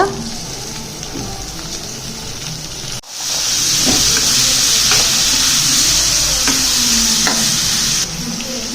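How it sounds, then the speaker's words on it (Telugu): Carrots and onions fry in a pan for fried rice, a loud, constant sizzle and hiss with scraping stirs throughout and a brief dip partway through. "క్యారెట్ కొద్దిసేపు వన్ మినిట్ వేగిన తర్వాత"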